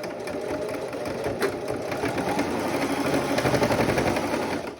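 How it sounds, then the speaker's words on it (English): A sewing machine runs steadily, stitching across a pleated homemade fabric protective mask to close a small hole, with a continuous close whirring chatter and no talking. "we're going to sew that little hole shut as we go across."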